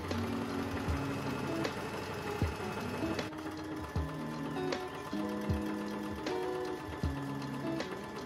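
A sewing machine runs in bursts, stitching the side seams of a top for a matching set, with a steady mechanical whir broken by brief pauses and clicks, close and fairly loud.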